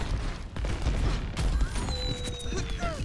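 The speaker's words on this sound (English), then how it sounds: "How did this bomb hit me?" A D.Va bomb in the video game Overwatch detonates in a dense, sustained blast of booming game noise and crackling effects that carries through the whole stretch, with rising whistling tones layered on top.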